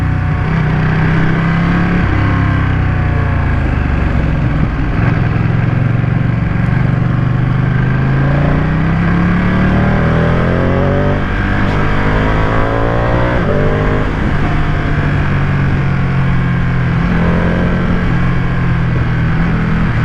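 A Ducati Panigale V2 955cc sport motorcycle engine revs and holds steady, loud and close, with rising and falling pitch sweeps over a continuous rumble for the full length.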